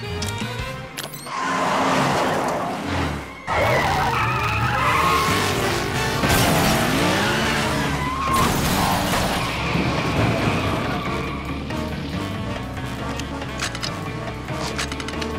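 Cartoon car-chase action with the Mystery Machine van skidding and squealing its tires over roaring engines and crashes. The sound is dense, loud and continuous, with sharp bursts throughout.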